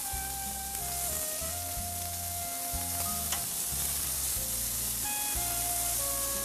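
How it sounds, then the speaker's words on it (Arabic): Marinated chicken sizzles steadily in a pan, a close continuous frying crackle and hiss with a faint hum underneath and no talking. "نطبخ من هاي الجهة، راح نقلبه على الجهة الثانية، نطبخه تقريبا لمدة 25 دقيقة"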